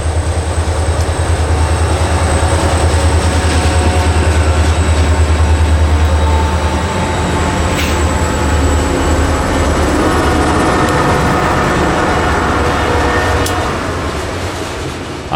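A northbound freight train with engine 8137 rolls steadily past near the north end of Plant City siding, a loud, continuous low rumble of wheels and cars that holds throughout and eases slightly toward the end, with no talk.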